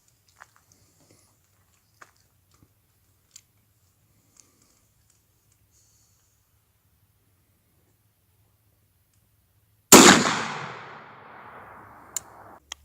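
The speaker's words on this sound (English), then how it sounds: "We're going to try the 223 penetrator rounds." A single loud .223 penetrator-round rifle shot strikes a 12-gauge single-ply stainless steel belt buckle, a sharp crack with a ringing, decaying tail after a long near-silent stretch, followed by a faint click.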